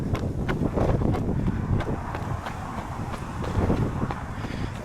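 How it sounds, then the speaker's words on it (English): Cold wind roars across the microphone during an outdoor run, a steady loud buffeting rumble with repeated gusts and no talking. "This cold wind we seem to be getting at the moment."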